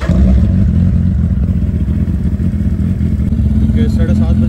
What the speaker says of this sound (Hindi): कोल्ड स्टार्ट का शोर सुनना है, इसके लिए मुझे क्लच प्रेस करना पड़ेगा।